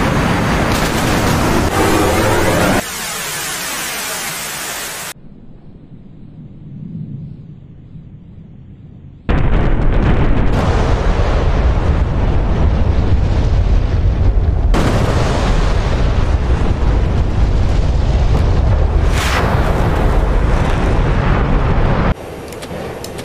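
Rockets strike their targets in the DCS flight simulator during a 1943 Dam Busters bombing mission, loud booming blasts and rumbling explosion noise filling most of the stretch, with a quieter lull in between.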